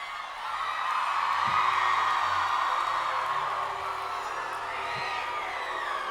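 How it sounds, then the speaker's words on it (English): Eerie, shrill screaming wails of a screaming eels sound effect drift in a sustained chorus over low background noise, rising and falling without speech. "Those were the screaming eels"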